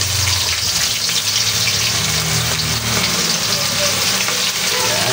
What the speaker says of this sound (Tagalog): Medyo ipapry lang po natin until maging golden brown.